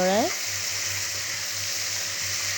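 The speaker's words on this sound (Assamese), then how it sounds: "বইল আলুখিনি দি লৰাই আছোঁ।" Boiled potatoes frying in a pan for an Assamese sour-sweet curry, stirred slowly: a dense, steady sizzle opening with a brief squeak, then a low pulsing hum beneath the hiss.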